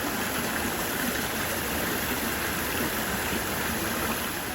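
Steady broadband rush of stream water flowing through a cave area in Walt Disney World's Animal Kingdom park, continuous and fairly close, with no voices over it.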